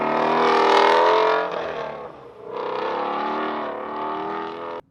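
A 2019 Ford Mustang Shelby GT350R S550 engine roars loudly and close, easing off briefly midway before building back to a sustained rough drone.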